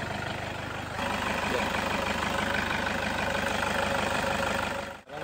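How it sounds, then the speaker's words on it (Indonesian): A Toyota Innova diesel engine idles steadily with an even, low knocking rumble, close and constant, before cutting off abruptly at the end. "Sudah berada di menit ke-16 sejak mesin dihidupkan."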